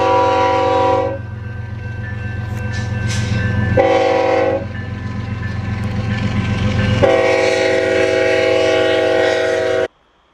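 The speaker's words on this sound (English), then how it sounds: "you can see the train that's coming in the distance" Train passing near abandoned stretches of original Route 66 in New Mexico, loud steady rumble with three long blasts of its horn, the last cut off abruptly.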